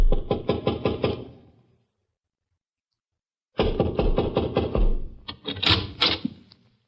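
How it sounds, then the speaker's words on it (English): Knocking on a wooden door as a radio drama sound effect: a quick run of about eight firm raps, a pause of roughly two seconds, then another series of loud knocks. "Want me to knock?"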